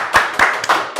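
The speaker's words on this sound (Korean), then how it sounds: "박수!" A live audience claps in short bursts, four distinct waves of applause in quick succession, fairly close and lively, with no talking over it.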